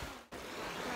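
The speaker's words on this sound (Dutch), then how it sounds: "Wij zijn bij de zee." Broadband sea surf at a crowded beach in Tuscany, a steady roar of waves with a brief dip near the start, fairly loud and close with no clear voices.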